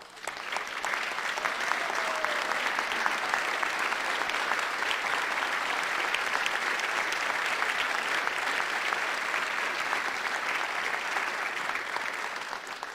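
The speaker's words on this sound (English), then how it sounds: "we need to give you a round of applause." A conference audience gives a long, steady round of applause for standing volunteers, dense clapping holding at an even level for the whole stretch with no speech over it.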